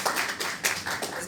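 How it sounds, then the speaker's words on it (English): Scattered hand clapping from an audience at a government stakeholders' address by CS Eugene Wamalwa, a brief burst of moderately loud applause with uneven taps and no talk over it. "Let's give him a big round of applause."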